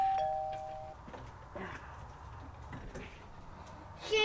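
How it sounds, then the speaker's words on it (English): A doorbell chimes near the start at a front door during a Halloween trick-or-treat outing, followed by quieter shuffling and door movement sounds, with a brief louder knock or clatter at the end. "you walk up, you ring the bell"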